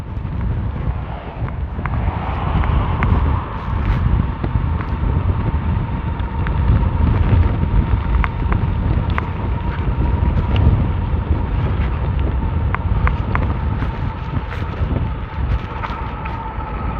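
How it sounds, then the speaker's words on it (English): Steady broadband wind buffeting a microphone on a SOLEBIKE SU45 urban e-bike climbing a steep sandy hill, a loud continuous rumble with gusts and a faint motor whine running throughout. "And wind gusts are hitting me in the chest."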